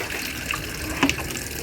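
Tap water runs steadily into a container for washing, a continuous splashing stream with a few faint clinks, and no voices.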